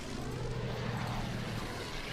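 Propeller airplanes drone steadily in the World War II strategy game Order of Battle: Red Steel, a continuous low engine hum at moderate volume with no talk.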